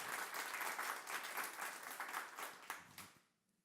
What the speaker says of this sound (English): One warm applause again for Christopher for his talk.